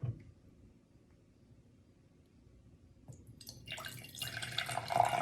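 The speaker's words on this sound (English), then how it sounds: "I'm going to pour water into it" After a near-silent start, water is poured into a container, the soft trickle and splash building in the final two seconds.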